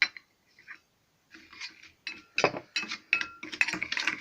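A spoon scraping and clinking against a bowl while stirring a mixture of sugar, ground coffee and milk, in irregular bursts of gritty scraping and small metallic taps, close by.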